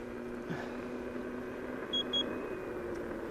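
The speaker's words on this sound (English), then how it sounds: "There's a little beep." Two quick high-pitched electronic beeps from a KingSong S22 electric unicycle sound faintly over a low steady hum of background noise.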